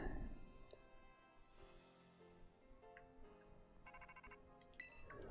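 In-game phone ringtone in Pokemon Scarlet, a soft melodic electronic ring with repeating chime tones, quiet and alone without speech.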